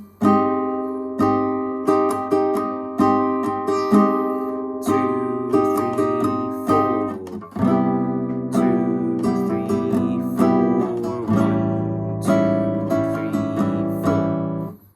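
A sequence of sustained chords strummed on a stringed instrument, each ringing out before the next, in an even, unhurried rhythm with no voices.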